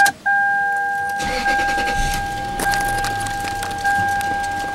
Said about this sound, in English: so now we want to start the car